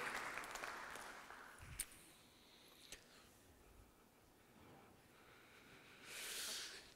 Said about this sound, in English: I think we should big applause.